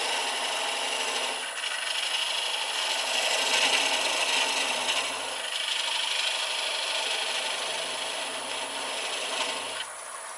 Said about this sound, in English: I've got this old hacksaw blade now.